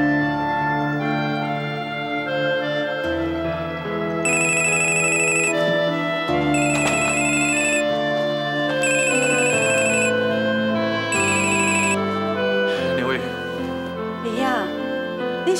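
Telephone ringtone rings in repeated bursts of bright electronic tones over a soap-opera music bed, loud and near, cycling regularly through the clip.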